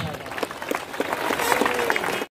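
Crowd applause breaks out at a flag-hoisting opening ceremony for a national boys' lawn tennis championship in Kakinada. Dense clapping runs steadily for about two seconds beneath a voice speaking over it.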